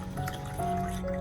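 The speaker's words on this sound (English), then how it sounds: "I poured the prepared baking soda solution into the container" Baking soda solution pours into a container for soaking an orchid's stem and roots, a soft, steady liquid trickle and gurgle heard close and quiet for a brief moment.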